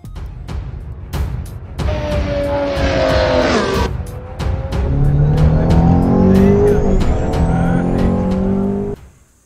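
Ferrari 412 T2 V12 Formula 1 car from the 1995 season, driven in Assetto Corsa, revving loud and close with a high, rising V12 wail, gear-change cuts and tyre squeal, continuous for most of the stretch before cutting off.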